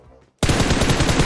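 After a brief quiet start, an M416 assault rifle in the PUBG battle royale game opens up in sustained full-auto fire, a loud, close, rapid burst of shots that runs unbroken to the end.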